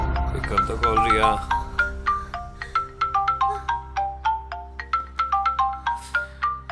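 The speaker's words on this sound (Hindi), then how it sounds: "पिकअप यार, किसका फोन है?" A phone ringtone rings in a steady, repeating pattern of bright chiming electronic notes, loud and close, with a voice speaking briefly at the start before the ringing carries on alone.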